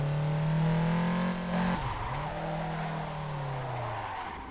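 A Toyota Trueno in the Assetto Corsa racing game: a loud, steady engine drone that drops sharply as the car shifts or slides into a drift, then climbs back, with tire squeal mixed in.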